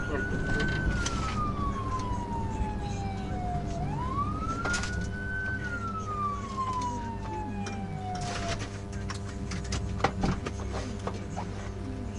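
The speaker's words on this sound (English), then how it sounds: "I then activated my emergency lights and siren to perform a traffic stop on the motorcycle" A police car siren wails up and down in long sweeping cycles, loud and close, over steady engine rumble and road noise during a traffic stop pursuit of a motorcycle.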